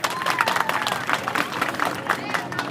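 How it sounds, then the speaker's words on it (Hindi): Audience at a village school's Republic Day celebration breaks into loud, dense clapping close by, with voices and murmurs mixed into the applause. "तो मैं चाहता हूं एक मरतबा जोरदार ताली बजनी चाहिए।"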